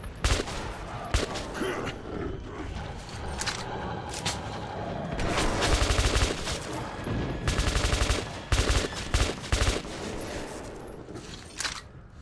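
Repeated heavy gunfire from a powerful weapon in the video game Metro 2033 Redux, rapid bursts of shots and booms going off in clusters throughout, loud and dense, with game action noise around them.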